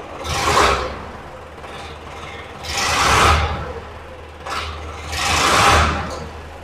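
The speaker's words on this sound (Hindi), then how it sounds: "मैं एक बार इसकी आवाज़ सुनाता हूँ ट्रैक्टर की आपको।" A diesel tractor engine idles with a low steady rumble, swelling into loud revs three times in a row, each rise and fall lasting about a second.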